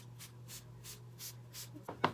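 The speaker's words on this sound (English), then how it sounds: "I'm gonna spray my face with my Smashbox primer water." A run of five quick, evenly spaced spritzes of primer water facial mist, close by, over a low steady hum, ending with a brief rustle.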